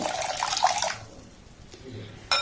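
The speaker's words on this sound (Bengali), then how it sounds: "জল দিয়ে চালটাকে প্রথমে চার থেকে পাঁচবার পাল্টে পাল্টে আমি খুব ভালোভাবে ধুয়ে নেব" Rice being washed in a bowl of water while preparing soft chitoi pitha: a close splashing, swishing rush for about a second, then quieter trickles and a final short splash.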